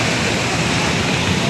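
Water gushes through a breach in a dam, a loud, dense, continuous roar with no pauses and no voices.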